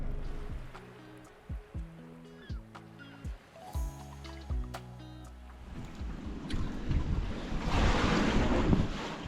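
Waves wash onto a beach on the coast, building into a broad roaring surf with wind buffeting the microphone, and a few short voiced sounds are heard early on.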